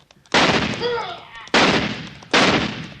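Rifle shots in a 1958 western radio drama, three loud, sharp reports about a second apart, each with a decaying echo tail; a brief whining tone follows the first.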